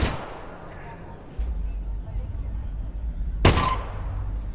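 Gunfire in Half-Life: Alyx, a single loud, sharp shot ringing out late in the clip over low ambient rumble, with a brief burst at the very start and speech around it.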